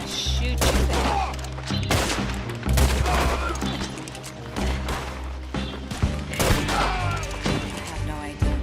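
Bursts of gunfire in Red Dead Redemption Online, loud repeated shots and volleys cracking in clusters through the clip, with players talking over the action.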